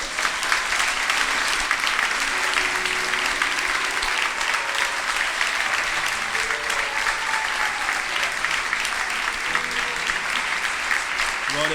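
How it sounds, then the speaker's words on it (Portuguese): Sustained applause from a large audience at a youth congress, dense steady clapping filling the hall for several seconds, with faint voices and cheers threaded underneath. "Você pode aplaudir o nome do Senhor por isso?"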